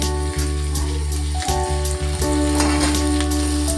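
Capsicum dropped onto onions frying in hot oil gives a bright, continuous sizzle and crackle, with small pops and clicks from stirring.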